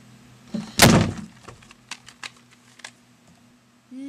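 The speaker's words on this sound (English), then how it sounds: "ever wonder what happens when you close the door?" A loud thud as a door shuts, followed by a scatter of small clicks and taps in a quiet room.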